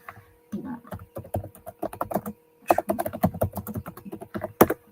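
Someone types on a computer keyboard at close range. Quick clusters of key clicks come in irregular bursts separated by short pauses, with no talking.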